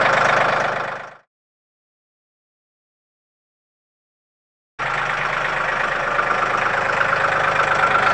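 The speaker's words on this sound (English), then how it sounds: "I'm going to leave the tractor running" A Mahindra tractor fitted with a backhoe idles nearby, a steady mid-low diesel rumble that cuts out abruptly for several seconds of silence, then returns at the same even, loud level with no talk.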